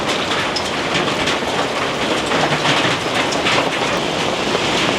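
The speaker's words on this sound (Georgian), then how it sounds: "სეტყვა დაიწყო ამასობაში, რა წვიმა" Hail pelts down on a parked car in Erbil, a dense, loud, rattling patter of many rapid impacts that runs without pause.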